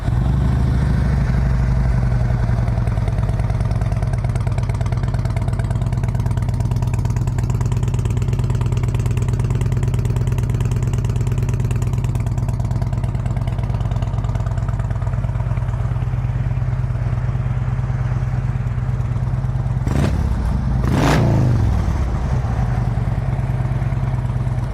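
A 2011 Harley-Davidson Road Glide FLTRX with Rinehart exhaust idles nearby, a deep continuous throaty rumble with a steady lopey pulse, and a couple of brief sharp blips around the twentieth second.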